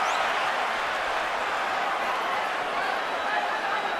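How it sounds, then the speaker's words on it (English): A packed arena crowd at the Golovkin vs Canelo boxing fight roars steadily through the ninth round, a dense, unbroken wall of cheering that stays loud for the whole stretch. "Crowd gets excited as Canelo fires back with counter shots."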